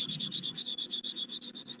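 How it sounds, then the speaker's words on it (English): Body putty on a Ford F100 pickup is sanded by hand near fender flares, a fast regular scratching rasp of about fifteen strokes, close and loud with no talking. "fixing to start sanding this putty that I put on the F100 off last night"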